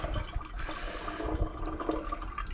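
Distilled water splashes and runs steadily close by, a continuous pouring rinse of gold recovered from electronic pins, with a gurgling texture, no voices.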